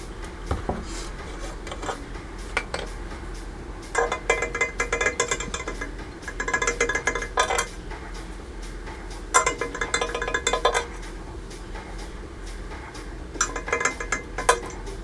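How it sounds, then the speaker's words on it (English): A paint brush being cleaned in a jar after painting model truck parts: bursts of rattling, clinking brush strokes against glass repeat in short clusters, close and fairly loud, with quieter pauses between. "I got to clean my brush."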